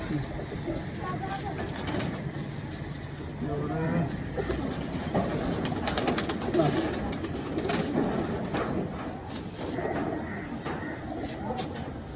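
Racing pigeons coo in a loft in soft low murmurs, mixed into a dense steady hum, with people talking throughout.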